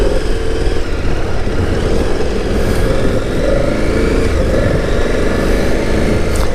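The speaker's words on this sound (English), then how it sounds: "The motor on this bike is buttery smooth." The engine of a 2019 KTM Super Adventure S motorcycle runs smoothly and steadily at close range, a loud continuous hum with no pauses throughout.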